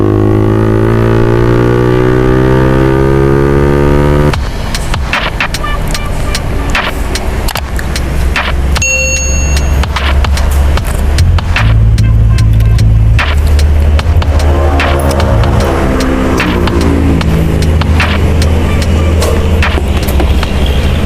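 A Yamaha All New Vixion motorcycle with an aftermarket Proliner exhaust roars and revs hard at top speed, with gear changes and rising harmonic whines, continuous and close throughout.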